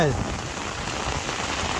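Rain falls steadily on a surface at a farm, a dense, continuous patter heard up close.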